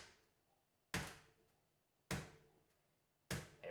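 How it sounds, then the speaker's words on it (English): A foot tapping a steady beat, three distinct thumps spaced about a second apart in a quiet room, each dull and close. "Listen to the tapping of the foot."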